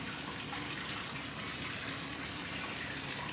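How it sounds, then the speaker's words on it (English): Tap water running steadily over a plate being rinsed in a kitchen sink, a continuous close splashing gush at even level with no pauses. "I'm going to go ahead and rinse out my plate because these are about to get pulled out."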